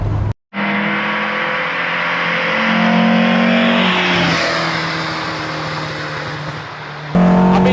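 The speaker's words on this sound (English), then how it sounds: "Considering this is a 1300, and it's 54 years old, and the way it's revving" A 54-year-old Lancia Fulvia 1300 classic car on the road, its engine loud and close, revving up through rising pitch, briefly cutting out near the start, then easing off and climbing again.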